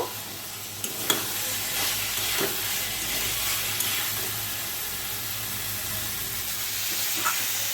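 Jackfruit and potato pieces frying in oil with spices, giving a loud, steady close-up sizzle and hiss throughout, with occasional scrapes from stirring.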